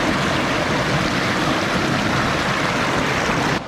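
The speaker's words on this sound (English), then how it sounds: "enjoying the view and the sweetest sound of the river" River flowing near Bijanbari, a steady, dense rush of water, loud and close, continuous without breaks and with no voices, ending in a sudden drop.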